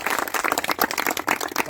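An audience claps for birthday wishes to Dr. Ajay Lal at the Aadhar Shila Sansthan CICM foundation day celebration, producing dense, steady, fairly loud applause that keeps going throughout without pause.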